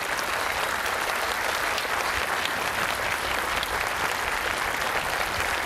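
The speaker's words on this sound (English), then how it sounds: "Join me again in a round of applause for Mr. Nettingham" Steady, dense applause from a large crowd at a Memorial Day concert, loud and sustained throughout without pause.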